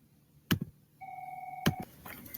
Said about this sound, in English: sorry, had to go answer the phone